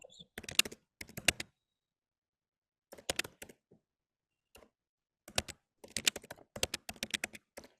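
Bursts of computer keyboard typing come in short clustered runs separated by pauses, quiet and close in an otherwise silent room.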